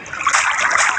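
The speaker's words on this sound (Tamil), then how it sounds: "ஊற்றி இப்போ போயிட்டு இருக்கு பாருங்க கைஸ் தண்ணி" Water pours out in a continuous splashing stream, close and fairly loud for about a second.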